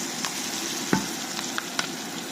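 Crab pieces going into a hot pan with garlic, giving a steady close sizzle with a few stirring clinks and scrapes, no talking.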